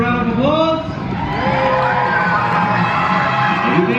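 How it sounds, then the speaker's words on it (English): Baseball stadium crowd at a ballpark themed night cheering and whooping for a contestant, a steady dense roar of yells and whistles across the whole stretch. "Give a round of applause."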